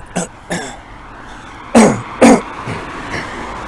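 Several coughs and throat-clearing bursts, close and fairly loud: two short ones early, then two heavier hacking coughs, followed by quieter throat noises.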